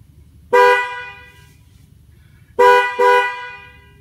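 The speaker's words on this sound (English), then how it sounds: "you should hear the horn blow twice, letting you know that the calibration's done and complete" A Camaro horn gives a single short chirp, then after a pause two quick chirps in a row, ringing out over a low idle hum as the tire pressure sensor relearn finishes.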